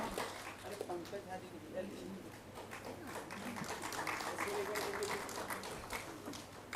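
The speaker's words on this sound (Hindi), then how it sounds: "कृपया आप सब लोग ताली बजाकर हमारे अतिथियों का उत्साहवर्धन करें" At a memorial meeting in a hall, an audience gives scattered applause to welcome guests, growing denser toward the end while people keep talking over it.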